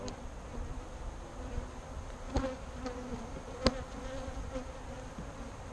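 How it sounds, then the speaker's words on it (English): Agitated Saskatraz honey bees drone in a constant low hum inside an open hive two weeks after a package install, with a few sharp clicks and taps rising briefly above the buzz. "Things are a little agitated today, which is something I haven't experienced with these bees yet."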